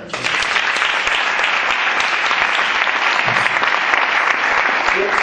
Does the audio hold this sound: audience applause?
yes